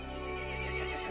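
A horse in a PS4 video game lets out a loud, close neigh, a strained whinny sustained across the whole moment with no talk over it.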